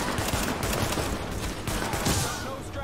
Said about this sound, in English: Now that was some shooting.